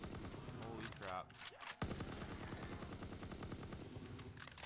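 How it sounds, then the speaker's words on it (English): A BAR rifle fires in bursts during a GTA V zombies game mode: rapid, sharp automatic reports in quick succession, loud and close, with a short pause partway through and some voices mixed in. "I didn't think the bar shot that fast."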